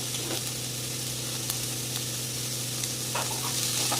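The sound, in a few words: stir-frying cabbage, capsicum and spring onion for Hakka noodles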